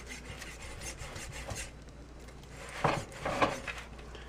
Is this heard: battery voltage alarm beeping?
no